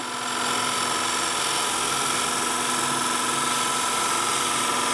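A wood lathe spins a bowl while a bowl gouge takes the final cut, giving a steady, loud, continuous whirring drone with a faint tonal hum and an even cutting hiss throughout.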